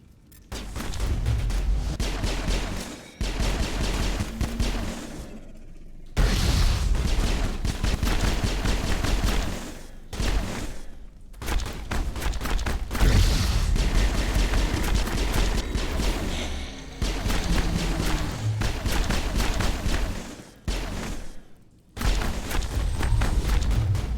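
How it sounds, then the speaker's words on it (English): Grenade blasts and rolling gunfire in Mass Effect 1, a dense, loud stream of shots and booms broken by a few short lulls, with no voice. "We're just gonna keep throwing grenades."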